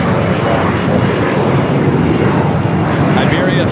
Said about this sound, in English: Iberia Flight 351 coming from Madrid and the 6-year-old A350-900.